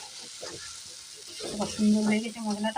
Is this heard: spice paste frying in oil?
yes